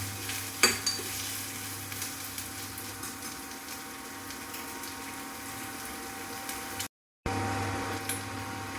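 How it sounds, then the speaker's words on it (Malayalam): Onions sauté in a pan for mushroom curry, a steady close sizzle with occasional scraping stirs and a brief dropout near the end. "ഇത് നന്നായിട്ടൊന്ന് വഴറ്റി, ഇതൊന്ന് നന്നായിട്ട് വഴറ്റിയെടുക്കാം."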